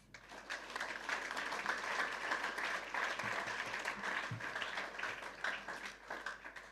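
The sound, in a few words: audience applause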